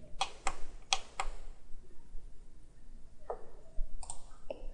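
Sharp computer mouse clicks while working in Autodesk Inventor CAD software: a quick triple of clicks, a pause, then a few more scattered single clicks, close and crisp against a quiet room.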